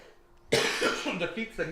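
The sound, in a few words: cough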